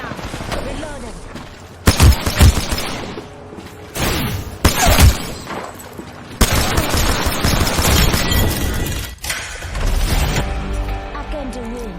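Shooter game Apex Legends firefight with several loud bursts of gunfire and heavy impacts, separated by quieter stretches, while voice callouts play over the action.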